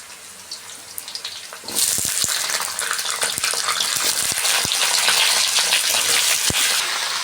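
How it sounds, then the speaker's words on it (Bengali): Potato, pointed gourd and drumstick pieces are tipped into hot oil, and a loud, rushing sizzle bursts up and holds steady. Scattered knocks and scrapes against the pan come through underneath. "এখন সবজি ঢেলে দিচ্ছি"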